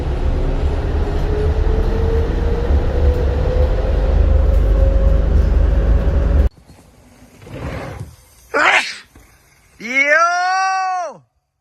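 A passenger train with windows that automatically block the view near residential buildings rumbles steadily and loudly as it rolls past for several seconds, then cuts off abruptly, followed by brief shouts and a groaning voice.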